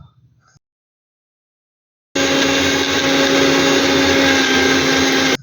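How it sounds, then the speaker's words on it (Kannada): After near silence, a kitchen mixie grinder starts up loud and close, grinding soaked batter in its jar with a steady, high-pitched motor whine and rumble that runs unbroken for several seconds before cutting off. "ಇದನ್ನು ಮಿಕ್ಸಿ ಜಾರ್ಗೆ ಹಾಕಿ ರುಬ್ಬೋಣ."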